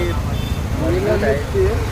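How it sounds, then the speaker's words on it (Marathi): Busy road traffic on a crowded Sunday: a steady low rumble of passing vehicles with a few brief tonal notes rising above it, and voices mixed in. "ट्रॅफिक बघून वाटते असं गर्दी आज लय आहे"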